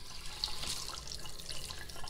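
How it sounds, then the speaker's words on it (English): Tap water runs into a sink as chicken livers are rinsed, a soft steady splashing flow, faint and without speech. "So first thing you do is you rinse all the blood out of the chicken livers."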